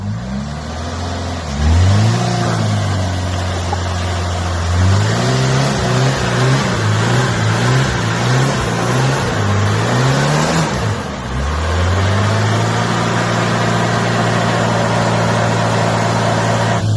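The turbocharged engine of a 1983 Ford Thunderbird Turbo Coupe revs repeatedly, pitch sweeping up and down in quick bursts, then settles into a steady loud idle.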